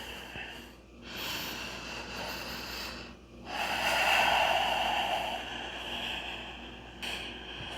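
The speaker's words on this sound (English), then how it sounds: "And just breathe here" Deep, audible breathing held in a yoga downward dog pose, long airy inhales and exhales rising and falling in slow waves, close and breathy, with a stronger exhale in the middle and brief pauses between breaths.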